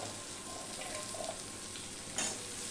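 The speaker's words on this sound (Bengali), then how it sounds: "এই আলু দিয়ে দিচ্ছি এই আলুর সাথে ভাজা হয়ে যাবে" Small fish and potato pieces fry in a pan with a soft, even sizzle and faint stirring, quiet and close, ending in a brief brighter crackle.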